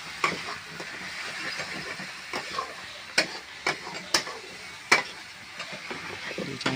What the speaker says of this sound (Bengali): এবার কষানোর জন্য হালকা করে নেড়ে নিচ্ছে যাতে না কড়াই জড়ে যায়।